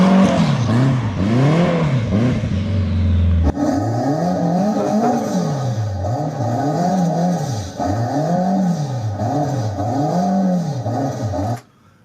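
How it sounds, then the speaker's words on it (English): A small car engine revs repeatedly up and down in a rhythmic wailing pattern, loud and close, after a brief steady higher whine. "That smart car sounds great."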